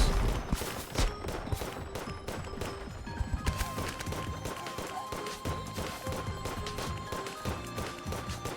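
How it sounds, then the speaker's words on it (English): Enemies firing many bullets in the Risk of Terrain video game, a dense, busy mix of small shots, impacts and crunches over game music, moderately quiet throughout. "Everything's shooting things at me."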